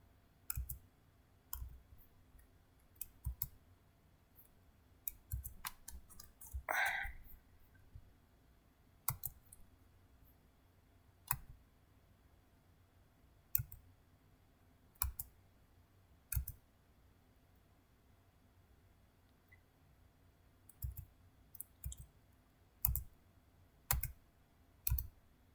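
Sharp, isolated computer mouse clicks during bookkeeping software use, spaced irregularly with a few quick clusters, close and quiet over near silence.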